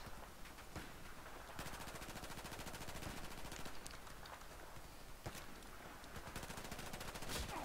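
Sustained automatic gunfire from the video game Battlefield 4, rapid continuous bursts running nearly the whole time with a few louder sharp shots standing out.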